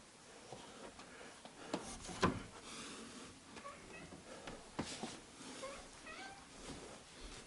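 A house cat meows a few times indoors, quiet and somewhat distant, with short cries spread over a few seconds against low room noise.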